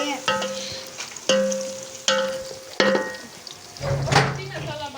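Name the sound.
onions frying in a pan for chicken biryani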